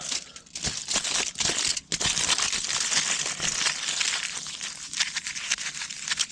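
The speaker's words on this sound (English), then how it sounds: "Now I'm just going to whack that into the tin foil." Buttered potato being wrapped tightly in tin foil at a woodland campsite, a steady close crinkling and crumpling of the foil for several seconds with no talking.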